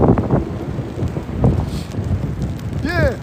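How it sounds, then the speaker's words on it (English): Gusty wind buffeting the microphone on a New York hotel balcony after a snowstorm, rumbling bursts that rise and fall, with a brief high chirp near the end. "It is a little windy."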